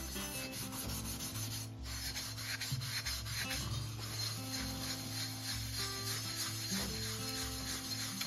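Dry 000 steel wool rubbed against a vase to polish it, a continuous close scratchy rubbing with short back-and-forth strokes, fairly quiet and with no talking.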